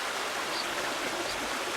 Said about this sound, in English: we've got a little creek here.